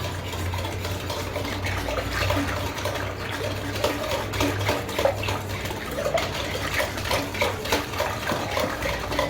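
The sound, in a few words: mixing yeast and sugar in a bowl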